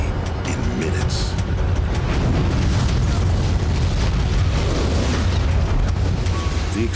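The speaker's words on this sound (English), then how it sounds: "The explosion was the equivalent of just one strategic nuclear warhead." Volcanic eruption explosion with a pyroclastic flow in Venezuela: a continuous, loud, dense roar and rumble with no quiet gaps throughout.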